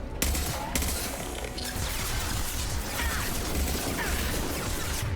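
Rapid turret gunfire in Mass Effect 2, a dense continuous barrage of loud overlapping shots and crashing impacts lasting several seconds, with no voices.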